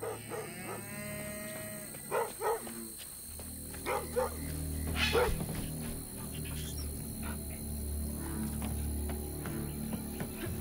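A dog barks in the video game South of Midnight, sounding out in a game scene over a steady background hum, with a few short barks or cries scattered through the clip.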